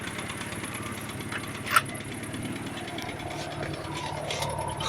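A Moskvich car engine idles on LPG, a steady low running hum close by with one brief sharp click partway through, no voices over it.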